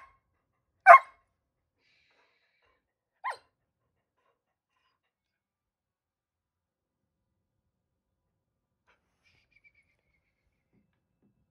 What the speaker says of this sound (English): Now, Birda, that's too much barking.